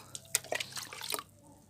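Homemade liquid fertilizer is poured onto garden rose plants in a brief, splashy trickle with a few drips, then quiet.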